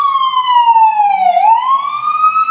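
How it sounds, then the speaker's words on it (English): Close, loud emergency siren wailing in a smooth falling then rising tone, continuous throughout. "Every time a siren passes."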